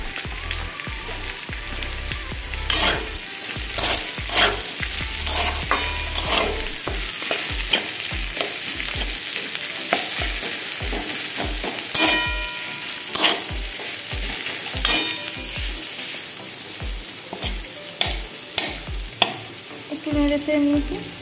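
Chopped ginger, onion, garlic and green chili stir-fried in oil with capsicum for an egg pasta, giving a steady sizzle broken by repeated sharp scrapes and clinks of a spatula against the pan, close and alone.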